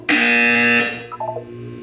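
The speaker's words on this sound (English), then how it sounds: "When you hear the buzzer," A loud, harsh electronic buzzer in the video game Portal 2 drones steadily for under a second, then cuts off, followed by a few short, quieter electronic tones.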